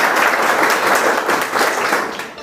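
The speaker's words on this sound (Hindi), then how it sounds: "मैं चाहता हूँ जितने भी यहाँ पे गुरुजन हैं इनके लिए एक बार शानदार तालियाँ हो जाए" Students at St. Joseph Inter College applaud their teachers in a hall, a dense and loud burst of many hands clapping at once that holds steady for a couple of seconds and then starts to fade.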